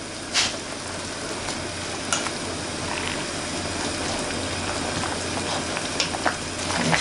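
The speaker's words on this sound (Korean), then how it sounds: "35분 더 끓여줄게요" A pot of samgyetang chicken soup bubbles at a steady boil, a continuous low rumbling burble with occasional small pops and clicks, fairly close and without voices.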